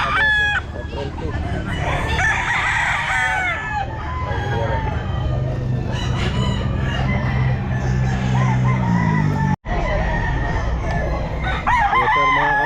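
An 11-month-old Sweater gamefowl rooster crows at the Grotto pet market, a loud nearby cock-a-doodle-doo among other clucking fowl, with market chatter and voices running underneath.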